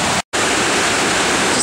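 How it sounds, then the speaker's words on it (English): A waterfall pours down loudly and close by on a hiking trail, a dense broadband roar broken by one brief dropout near the start. "how pretty that water is coming down from the waterfall"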